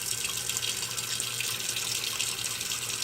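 A kitchen tap runs steadily with a broad hiss as hot water pours into a pot meant for boiling macaroni, continuous and fairly close, with no talking.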